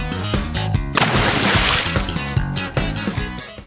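Water splashes and sloshes on a backyard water slide, a loud, broad rush lasting about a second, followed by smaller splashes.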